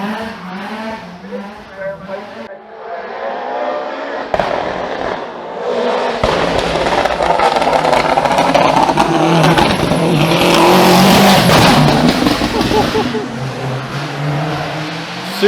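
A much-modified Ford Anglia drifts through a tight circuit corner at a retro car gathering, its engine roaring loudly and rising in revs with tire noise, while someone talks over it.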